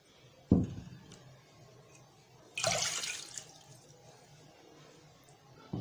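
Cold water poured into a pot for Kashmiri chai: a splash near the start, then a louder gushing pour at about two and a half seconds that fades out, with faint background noise around it.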